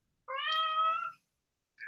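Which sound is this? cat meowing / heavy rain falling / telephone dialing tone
cat meowing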